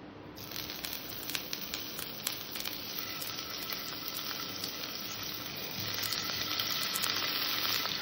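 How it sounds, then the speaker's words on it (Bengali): Paneer fries in a little oil in a hot pan on a gas stove, giving a continuous crackling sizzle that grows somewhat louder toward the end, with no talking. "পনিরটাকে আমি একটু হালকা করে ভেজে নেব"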